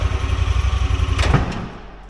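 A side-by-side UTV engine idles with a steady low pulsing throb, close and fairly loud, then fades toward the end.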